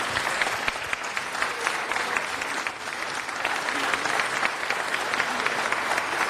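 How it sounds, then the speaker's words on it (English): Sustained applause from an audience at a city council meeting honoring a Chinatown pageant court, a dense, steady clapping that fills the room evenly for several seconds at moderate loudness. "One last round of applause."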